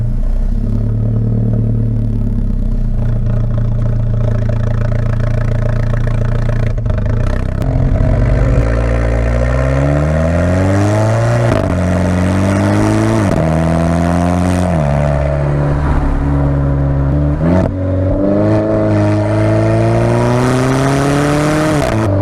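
A 2016 Alfa Romeo 4C Spider with a turbocharged 1.7-liter four-cylinder and six-speed twin-clutch gearbox drives along, its engine idling low and then revving repeatedly through rising gear pulls, loud and close throughout.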